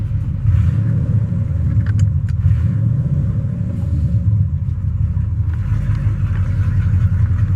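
Car engine rumbling steadily and loud from inside the cabin during a test drive after a first fire, a constant low drone with no talking.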